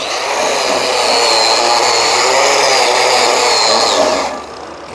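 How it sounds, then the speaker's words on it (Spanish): Welding on a cracked Eaton 16-spline axle shaft makes a loud, steady buzzing hiss that holds for about four seconds before cutting off. "Apliquemos entonces la soldadura en esta parte"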